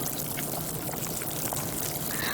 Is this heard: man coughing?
no